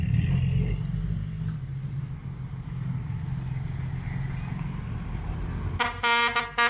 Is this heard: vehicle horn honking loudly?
yes